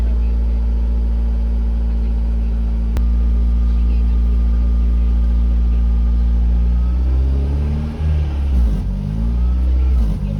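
A Honda Prelude engine, close and loud, idles steadily, then surges and revs up and down on its own with nobody touching the gas pedal, the pitch wavering toward the end.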